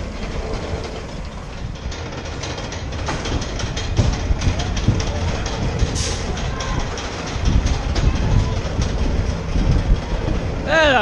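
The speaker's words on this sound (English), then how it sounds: "that was the mine train" Mine train roller coaster at Funland amusement park on Hayling Island, rattling steadily along its track with clickety-clack wheel noise and rumble, with riders' voices and shouts mixed in.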